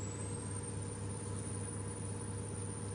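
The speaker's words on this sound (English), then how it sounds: "Man, that truck sounds so mean." A truck engine in a farming video game runs with a steady, deep, rumbling drone and a thin high whine above it, holding constant for a few seconds with no talk.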